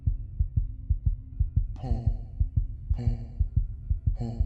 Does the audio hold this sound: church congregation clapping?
no